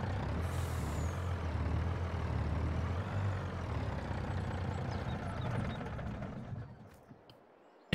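A grain truck with a 400 horsepower engine in the Farming Simulator video game rumbles at idle with a steady low engine drone and a short hiss of air near the start. The hum fades toward the end, with no voices.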